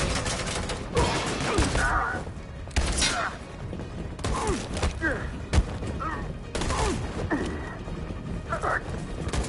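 Suppressing gunfire in a game: sustained bursts of shots and mechanical clatter in loud, dense waves, with shouting voices mixed throughout.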